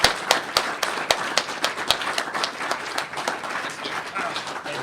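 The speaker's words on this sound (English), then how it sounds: "But let's give him a big round of applause." An audience at a Startup Grind Ottawa talk gives a round of applause, with dense, sharp claps that are loudest at the start and then settle into steady clapping. No voices rise clearly above it.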